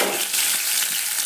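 Green chilies sizzle and fry in a pan for a tomato and cucumber curry, a brief, steady hiss without talk.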